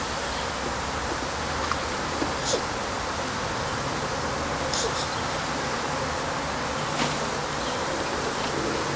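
Honeybees in an open top bar beehive, one week after installation, make a dense, steady buzzing drone close by, with individual bees occasionally zipping past.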